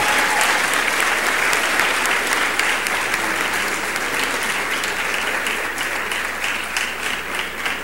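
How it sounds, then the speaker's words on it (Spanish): Loud, sustained audience applause at a university presidential debate, dense clapping that stays strong from start to finish with no talking over it. "Un aplauso para el candidato Solís,"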